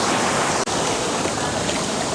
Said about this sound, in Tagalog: Ang lakas po ng bagsak ng tubig.